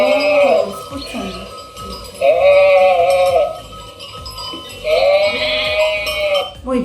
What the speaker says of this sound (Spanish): Muy bien, es una ovejita.